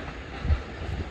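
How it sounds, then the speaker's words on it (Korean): A low, heavy rumble of a train rolling past close by, steady for a brief moment with a slight swell in the middle. "옆에 기차 들어가는 소리가 들리네요"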